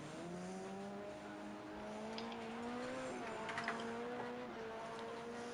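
A race car pulls away from the pit exit in a racing video game, its engine note a steady rising drone that holds through the clip with a few faint clicks on top, no voices.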